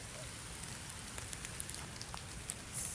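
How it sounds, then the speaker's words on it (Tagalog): Heavy rain falls steadily, a dense, even patter with scattered drips, heard faintly and alone. "Grabing ulan."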